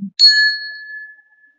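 A brass hanging bell is struck once, giving a bright, clear ding that rings out and slowly fades over about a second, close and alone.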